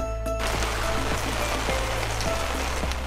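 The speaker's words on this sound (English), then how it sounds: "the pitter-patter of raindrops on the RV" Rain patters steadily on the roof of an RV while camping, a dense, even hiss of drops with occasional louder taps, continuous and close.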